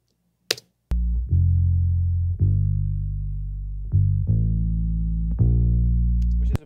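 An unprocessed bass track in a pop-rock mix plays solo: a short click, then a series of sustained, clean notes with plucked attacks, loud and close, repeating in a steady phrase.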